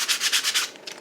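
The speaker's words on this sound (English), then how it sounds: "I am actually going to just take my little sanding block that I got from Dollar Tree" Rhythmic scratchy rubbing of a Dollar Tree sanding block on painted wood, several quick back-and-forth strokes, close up, then fading lighter.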